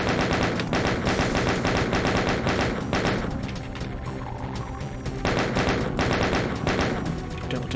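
Chaingunner enemies in a Doom map fire rapid, continuous bursts of gunfire, loud and dense. The shooting pauses briefly midway, then resumes, with no voices heard.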